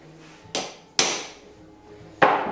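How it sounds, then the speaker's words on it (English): Three sharp metallic hammer blows strike a speaker magnet to knock it loose, spaced unevenly, close and loud, each with a brief ringing decay and no talking. "Sometimes you might have to hit it with a hammer, like such"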